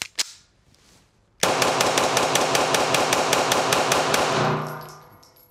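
Rapid string of 9mm shots from a SIG P226 pistol at an outdoor range, about fifteen loud sharp cracks in quick steady succession that fade off into ringing at the end.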